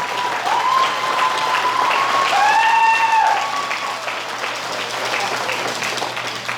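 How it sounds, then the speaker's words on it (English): At a school transportation banquet, the crowd gives a full round of applause for award winners, steady loud clapping that holds throughout while a few whistling or cheering tones rise briefly near the start. "Can we give one more round of applause to all the winners tonight?"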